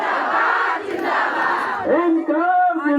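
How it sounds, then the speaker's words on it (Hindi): A large crowd of women chants protest slogans at a one-day sit-in in front of the Raj Bhavan in Ranchi, their loud massed voices rolling together before a few individual voices rise clearly near the end. "अब महिलाएं भारी तादाद में नारा लगाइए"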